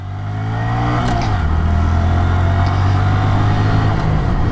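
A Honda Grom motorcycle engine runs close and loud, its steady drone revving up with a clear pitch drop partway through as gears shift, then holding a constant buzzing tone.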